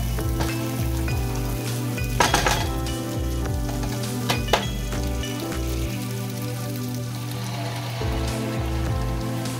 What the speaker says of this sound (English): Saute the masala paste over medium-high flame for 4 to 5 minutes till the oil